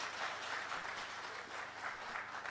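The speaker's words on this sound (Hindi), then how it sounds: "चाहूंगा एक बार जोरदार तालियां आपके स्वयं के लिए।" Audience applause fills an auditorium at a Haribhoomi and INS forum event in Bilaspur, a steady dense wash of clapping that holds evenly loud throughout with no voices over it.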